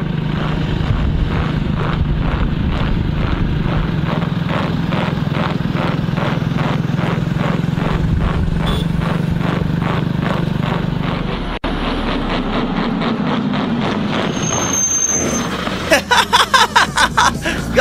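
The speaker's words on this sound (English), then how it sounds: "We can hear weird noises from the tire." Toyota Fortuner rolling slowly on a tyre punctured by 41 hammered-in nails, giving a regular thumping, flapping beat under a low engine drone, the pulses growing quicker and sharper near the end.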